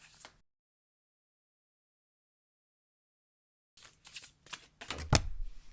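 Tarot cards being shuffled by hand in a burst of quick papery riffles and flicks near the end, after a long silence with a brief rustle at the start.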